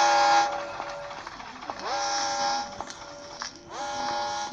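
An in-game train in the horror game Granny 3 sounds its horn in repeated long tonal blasts that bend in pitch, over rolling rail clatter, close and fairly loud.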